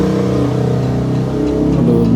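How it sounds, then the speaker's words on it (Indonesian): Motorcycle exhaust revving in the mobile game Free Fire, a steady droning engine note with rising and falling pitch that stays loud and continuous throughout. "Aduh, berisik banget sih knalpot motornya itu."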